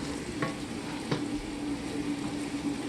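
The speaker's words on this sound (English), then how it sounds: "We're going to give it a nice gentle stir." Spaghetti sauce simmering in a pot while a spoon stirs it gently, a steady bubbling sizzle with a couple of soft scraping clinks against the pot.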